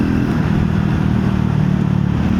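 A Triumph Scrambler 400 XC motorcycle engine hums with a steady, close, low rumble under throttle, holding an even pitch throughout with no talk.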